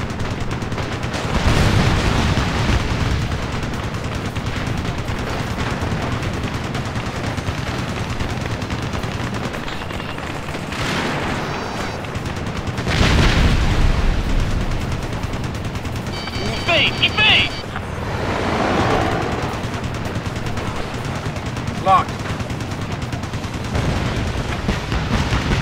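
Aircraft guns rattle in the Ace Combat video game, a sustained roar of firing with louder bursts, under intermittent voices and engine noise.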